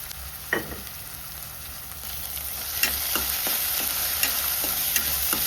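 Ginger garlic paste, green chillies and onion frying in a pan with turmeric and salt for egg bonda, a soft steady sizzle with scattered clicks of a spoon stirring, no talking.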